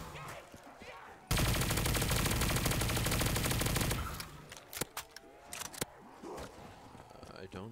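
Sustained automatic gunfire rattles for about three seconds in a Black Ops 3 custom zombies map, followed by scattered single shots and clicks, with a voice talking faintly underneath.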